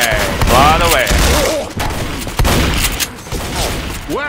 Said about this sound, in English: Hey, awesome new shotgun.